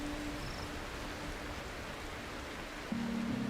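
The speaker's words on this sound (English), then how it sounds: "It's really raining a lot." Heavy rain falling on a mountain campsite overnight, a steady hissing wash of noise that never lets up, moderately faint, with a low hum entering near the end and no talk.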